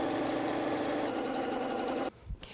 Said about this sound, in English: we're going to sew these triangles together.